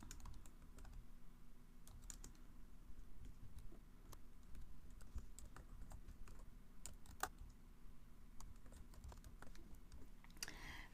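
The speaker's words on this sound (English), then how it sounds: "Then I'm going to go ahead and type." Typing on a computer keyboard at a crafting desk, steady quick key clicks and taps, faint and close with no talking.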